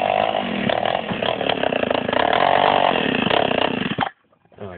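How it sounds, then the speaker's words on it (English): A mini moto pit bike engine revs loud and raspy with no exhaust fitted, a harsh buzzing whine held for about four seconds before it cuts off abruptly, very close. "That was a pit bike."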